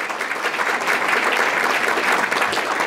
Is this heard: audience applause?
yes